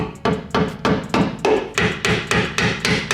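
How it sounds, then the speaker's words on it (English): Sheet metal being chiseled off a Mazda Miata interior: a fast, even series of about a dozen loud hammer blows on a chisel, close and alone. "But this, I'm gonna need to chisel that off."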